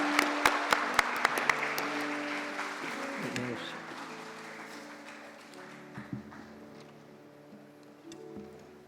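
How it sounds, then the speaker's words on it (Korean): A room full of people claps during a church service, with sharp scattered claps at the start thinning into softer applause over a low hum. "큰 박수 부탁드립니다."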